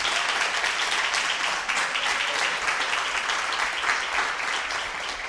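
A church congregation bursts into sustained applause during a Spanish-language sermon, dense and even clapping filling the room for several seconds without a break.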